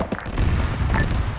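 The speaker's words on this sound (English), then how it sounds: "got ears on an auto cannon southwest of Bravo's location" Heavy autocannon fire in the military game Arma 3, a dull booming burst with a low rumbling tail over a few seconds.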